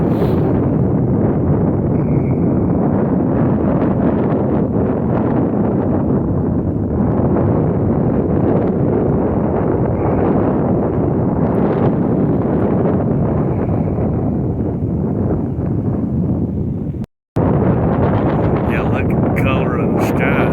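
Strong gusting wind roars loudly and continuously across an outdoor microphone, buffeting and shaking the camera on a very warm, windy Christmas Eve evening, with a brief dropout near the end before the roar resumes.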